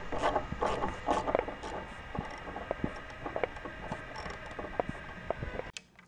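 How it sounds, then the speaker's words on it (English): A screw on a garage door opener is turned out with a 5x socket, giving close, irregular ratcheting clicks and scraping mechanical sounds that end abruptly. "Using the 5x socket, I'm removing the first screw"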